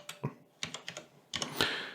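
Keystrokes on a computer keyboard, a few quick irregular clicks in two short bursts, close and fairly quiet, with no talking.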